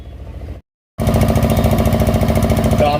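Motorcycle engines rumble at a bike rally held for Vishwakarma Jayanti in Maharashtra, a loud, close, rapid pulsing throb that cuts out briefly, then returns strongly and holds steady.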